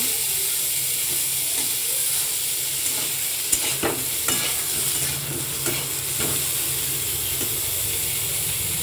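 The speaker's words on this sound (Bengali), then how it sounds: "এবারে ফুলকপিটা ভাজাভাজি করে নিচ্ছি" Cauliflower frying in a pan with oil, a steady close sizzle and hiss under occasional scraping and stirring clicks from a utensil, with no talking.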